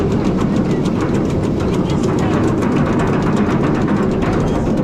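A B&M roller coaster train at Toverland in the Netherlands runs smoothly along its track, giving a steady, loud rumble with a faint rhythmic clatter throughout, no voices.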